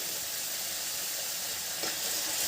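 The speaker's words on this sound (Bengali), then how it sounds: "মশলাটা ভালো করে কষিয়ে নেব" Masala spice mix with turmeric sizzles in a pan as it is fried down for an apple vegetable curry, a steady close hiss that swells slightly near the end, with no talk.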